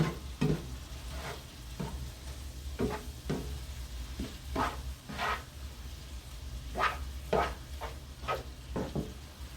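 Ground chili meat browns in a pan for low-carb keto chili, a steady sizzle broken by repeated scrapes and stirring strokes, close and fairly quiet with no talking.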